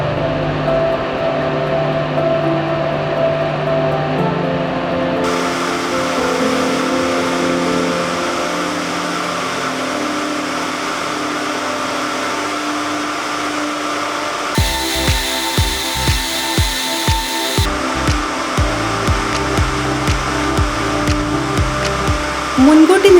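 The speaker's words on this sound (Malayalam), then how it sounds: "ഒരു റോബോട്ടിക് ക്ലീനിംഗ് മെഷീൻ ആവശ്യമില്ലാത്ത കോട്ടൺ മാലിന്യങ്ങളെ ശേഖരിച്ച് മാറ്റി ബോബിനിൽ ചുറ്റുന്ന റോവിനുകളുടെ ക്വാളിറ്റി ഉറപ്പാക്കുന്നു" A textile machine winds cotton rovings onto bobbins in a lamp-wick factory, giving a loud, steady mechanical whir and hum. Partway through, a rapid regular clatter joins in, then the whir carries on.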